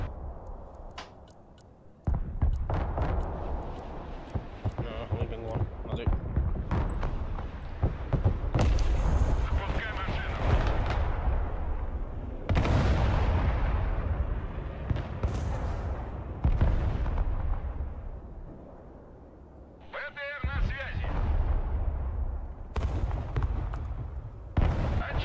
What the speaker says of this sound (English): Boom, small artillery.